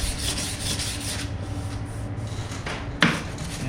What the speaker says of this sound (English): and just run the scuff pad over it